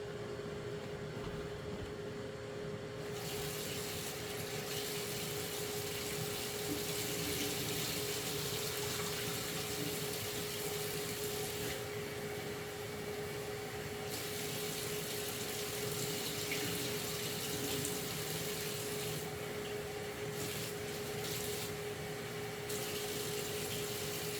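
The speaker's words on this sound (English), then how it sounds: "I'm going to rinse this out again, get a new plate." A kitchen tap runs continuously while a plate is rinsed, making a soft, steady rush of water with a faint constant hum, heard from close by and without speech.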